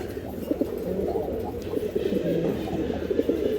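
Steady low cooing from green-necked breeding-pair pigeons on a loft farm, a dense layered murmur of several nearby birds with no voices.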